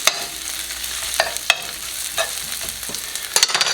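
Garlic stirred into caramelized onions in a pan, with a soft ongoing sizzle broken by several sharp scrapes and taps of the utensil against the pan, close up and without talking.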